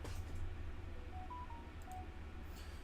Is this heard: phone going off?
yes